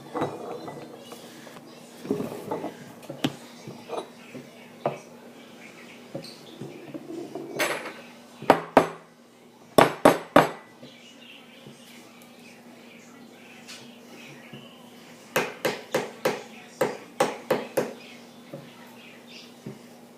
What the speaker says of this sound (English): First, I'm going to crack 2 eggs.